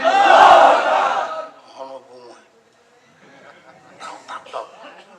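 A crowd at a religious sermon chants the takbir in one loud collective shout that fades out, followed by someone speaking.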